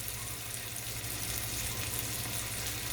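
Steak searing in a hot cast iron pan makes a steady, dense sizzling hiss, close and constant with no pauses and no voices.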